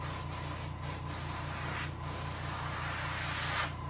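White paint sprayed from an airbrush or spray gun onto a crappie fish for taxidermy, a steady close hiss with brief dips in level.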